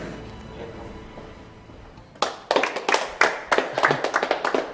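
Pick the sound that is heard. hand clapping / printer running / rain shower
hand clapping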